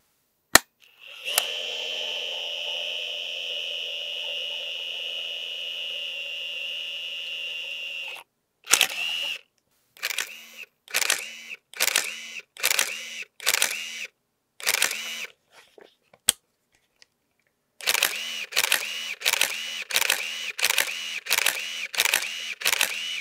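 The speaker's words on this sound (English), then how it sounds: "I'm going to demonstrate now how it sounds when it loads and then how the shutter sounds." A Nikon N75 film camera whirs steadily for several seconds as film loads, then sharp mechanical shutter clicks repeat in quick bursts, close up, with short pauses between.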